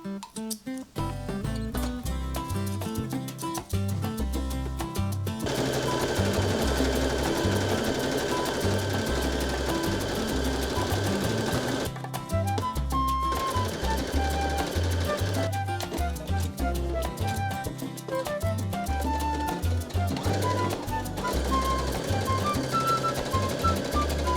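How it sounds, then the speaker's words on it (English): Sewing machine stitching the legs of baby overalls made from thrifted shirts, loud rapid bursts of needle chatter that start and stop repeatedly, with brief pauses between runs. "now we'll just get to sewing all the legs together and then inserting the elastic waistband and hemming"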